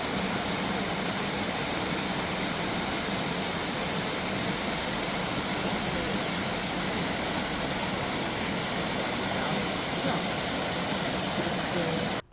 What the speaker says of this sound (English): But we went to a waterfall. Have a listen.